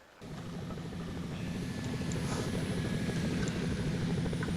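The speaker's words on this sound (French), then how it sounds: "Carrément, il va travailler en hélicoptère." A video game helicopter's rotor thumps steadily and rumbles low, holding a constant loud drone after a brief quiet start, no voices.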